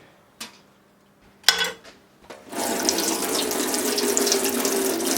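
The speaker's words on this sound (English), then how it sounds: "Give a fish a wash." Running tap water splashes loudly into a sink as a bass fish is rinsed, preceded by a few sharp knocks and clatters before the steady close stream takes over.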